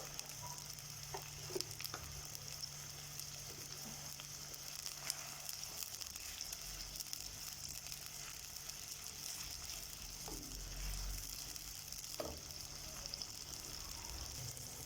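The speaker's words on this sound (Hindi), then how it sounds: "आज मैं प्याज फ्राई कर रही हूँ। जीरे के साथ जीरा, हरी मिर्च और प्याज, सारी चीज़ें फ्राई हो रही है।" Onions frying in oil with cumin seeds and green chillies give a steady, even sizzle and crackle throughout, soft and continuous with nothing else over it.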